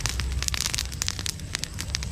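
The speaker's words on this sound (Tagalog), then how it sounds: "Yung unti-unti lang para di masyadong lumakas ang apoy." A bonfire crackles and pops steadily outdoors on a windless day, with sharp snaps scattered over a constant rushing roar, close by.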